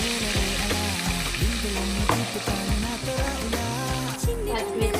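Fish fry in hot oil with a loud, steady sizzle and crackle, with scattered pops and clinks from stirring throughout.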